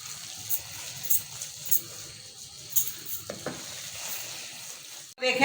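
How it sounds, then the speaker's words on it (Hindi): Gram flour for besan barfi roasts in a pan with soft sizzling, punctuated by periodic scrapes of a spoon stirring it, ending in a sharper clatter. "इसको तकरीबन 5-6 मिनट हो गए मुझे भूनते हुए, तकरीबन ये 10-12 मिनट भुनेगा।"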